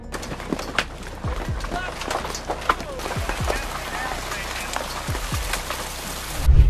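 Rain falls steadily on a campsite, a dense continuous patter of drops on surfaces with scattered louder taps, moderately close and fairly even throughout.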